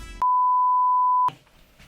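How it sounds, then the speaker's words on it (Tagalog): One sustained electronic beep, a pure steady tone lasting about a second, loud and clean between brief bits of other sound. "Beep! Beep!"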